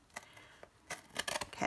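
Scissors cut along the spine of a Little Golden Book cover, quiet scattered snips building into a faster run of crisp cuts toward the end, close and soft.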